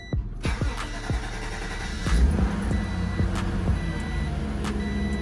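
A car engine cranks with a rapid run of starter clicks, catches, and settles into a steady, smooth idle that continues to the end, with no talking.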